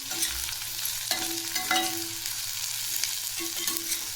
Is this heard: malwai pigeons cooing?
no